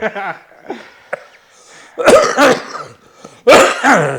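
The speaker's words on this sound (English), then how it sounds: "I'm coughing like Walt with lung cancer" A person coughs in harsh, close bursts, a few lighter hacks followed by two loud, heavy fits of coughing and throat clearing.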